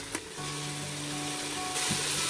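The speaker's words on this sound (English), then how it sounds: "Now we need to saute this masala really well, because that is something which is going to add a lot of flavor to our curry" Masala for Punjabi chole sautéing in a pan: steady soft sizzle and frying hiss with a few clinks of stirring, moderately quiet and close, no voices.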